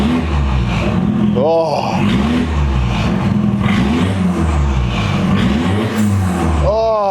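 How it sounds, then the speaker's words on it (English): A 1.8 turbo engine in a MK2 Golf GTI, running with no exhaust fitted straight out of the downpipe, barks and revs loudly and lumpily up close, with a man exclaiming briefly. "There's no exhaust on it, let's give it a rev"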